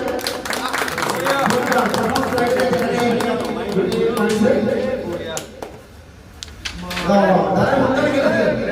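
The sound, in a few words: audience applause at a carrom competition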